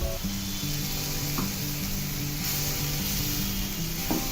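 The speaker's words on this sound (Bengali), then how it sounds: "তো তেলের সাথে মশলাটা একটু ভাজা হয়ে গেলে দিয়ে দিচ্ছি সামান্য একটু পানি।" A splash of water poured onto spices frying in oil for a Bengali egg curry sets off a steady, moderate sizzle, with soft music playing underneath throughout.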